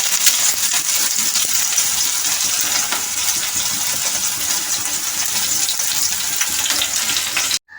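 Sliced onions and three garlic cloves frying in hot mustard oil in a kadai, a continuous bright crackling sizzle that holds steady before cutting off abruptly at the end, no talking.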